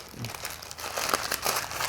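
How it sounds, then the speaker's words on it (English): Crisp crinkling of a plastic bag being handled close by, with irregular rustles and crackles throughout, no speech. "I seal that up in a plastic bag,"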